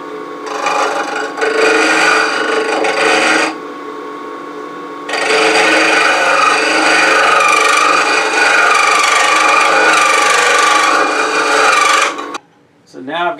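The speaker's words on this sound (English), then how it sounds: "I'll probably use this Dale Nish style nickel scraper to kind of get in there." Wood turning on a lathe while turning a salt shaker, with a Dale Nish style nickel scraper scraping the spinning wood in a loud, steady rasp that pauses briefly and resumes, then drops off near the end.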